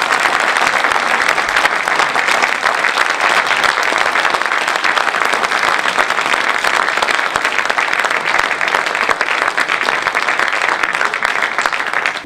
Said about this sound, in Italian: vi prego un grande applauso a Simonetta Greco